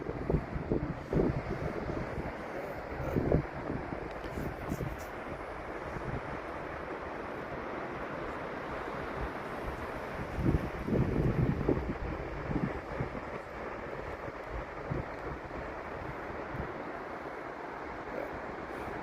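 Ocean surf and gusty wind at Ponce Inlet beach roar steadily, with buffeting wind on the microphone and the crash of breaking waves swelling now and then.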